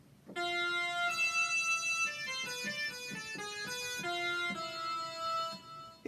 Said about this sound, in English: this pipe sound, as I told you, not so good